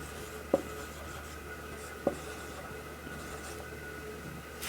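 Writing on a board during a chemistry class produces faint scratching strokes and two small taps, heard over a steady low room hum.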